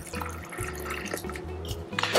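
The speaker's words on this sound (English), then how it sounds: "Then I'm going to add 250 mils of hot water." Hot water pours into sugar for an oleo saccharum, a close, steady trickling and splashing of liquid that runs alone for about two seconds.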